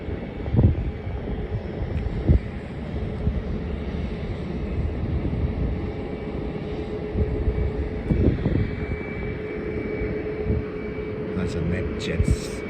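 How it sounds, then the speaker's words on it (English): An aircraft approaches to land at Melbourne Airport, its engine roar a steady distant drone under gusting wind noise, with someone talking intermittently over it. "So I'll wait for that one to land. It's coming up right at the back, a few minutes away."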